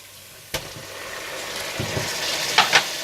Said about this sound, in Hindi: धनिया पाउडर और नमक डालकर भून लें।